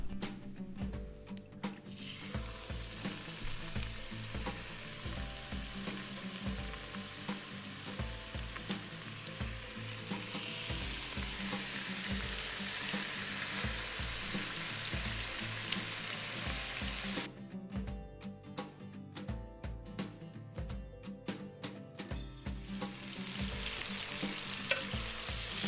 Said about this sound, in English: What we're going to do is we're going to sear off our pork tenderloin.